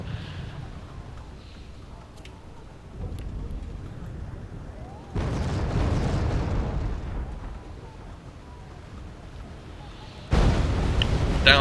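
Rocket artillery salvos in a Cold War tactical strategy game rumble as heavy, overlapping low booms that swell and fade in waves, with sharp surges of roaring fire and a steady rumbling background.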